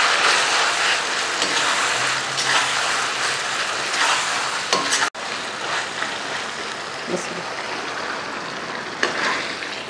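Masala and chilies fried and stirred in a karahi over a high flame for dal, a loud, continuous sizzle broken by scraping stir strokes and a brief clatter near the middle, close up with no talking.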